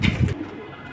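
Racing pigeons give a short, low, throaty coo close by, followed by a quieter background hum.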